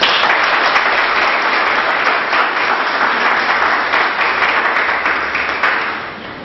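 An audience at a school ceremony honouring teachers breaks into sustained, dense applause for a guest couple, a loud continuous wash of clapping that fades slightly toward the end.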